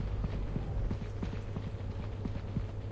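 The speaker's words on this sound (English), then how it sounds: "Oh, I hear footsteps." Footsteps in a video game, a steady run of soft thudding steps under a constant low rumble and clatter, fairly close and continuous throughout.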